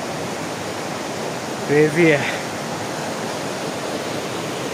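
A river flowing right beside a jungle campsite, a steady broadband rush of water close by and constant throughout, with a brief spoken remark partway through.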